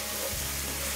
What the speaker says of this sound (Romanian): o lăsăm să se prăjească aici, frumos